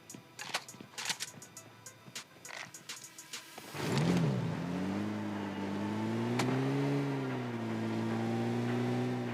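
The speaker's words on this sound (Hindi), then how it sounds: "मैं हील लगा के गाड़ी में बैठ के जा ही रहा था" Car engine in a mobile battle-royale shooter game, revving up and holding a steady droning hum as the vehicle drives off after a few sharp gunshot-like clicks, loud and alone.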